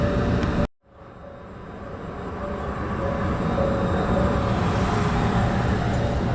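Train rumbling past a level crossing in Japan, a steady broad roar that builds after a brief silence and holds loud and close, with a faint high tone running underneath.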